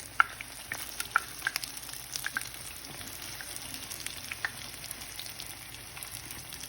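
A West African pancake frying in a pan as it is flipped, a soft steady sizzle with faint scattered clicks and scrapes from the utensil, fairly quiet and without speech.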